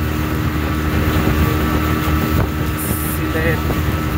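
A speedboat engine droning on Tanguar Haor, a loud continuous roar with wind buffeting the microphone, while a voice talks over it.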